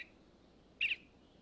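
A male eastern bluebird gives a single short, warbling call in a quiet springtime setting in Shenandoah, with a faint chirp just before it.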